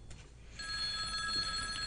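A telephone starts ringing partway through, a steady electronic ring heard close by over quiet room background, with no one speaking.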